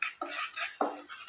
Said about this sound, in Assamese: কেৰাহীখনত অলপ এইদৰে লৰাই থাকিব লাগিব